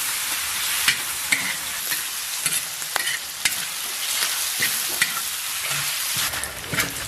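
Thick slices of fatty pork belly fry in a pan as the fat renders out for a Northeast Chinese pork-and-glass-noodle stew, giving a steady close sizzle broken by sharp clicks and scrapes of stirring.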